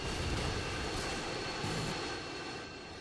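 Drone flying in a video game, a continuous whirring engine hum, fairly loud and steady throughout, easing slightly toward the end.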